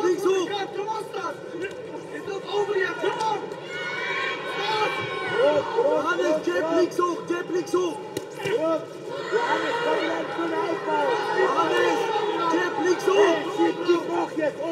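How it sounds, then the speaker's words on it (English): A jam-packed arena crowd at an MMA fight in Frankfurt's Süwag Energie arena cheers steadily for the whole stretch, a dense roar of voices swelling and falling with a commentator talking over it. "listen to this crowd now cheering on Johannes Baas"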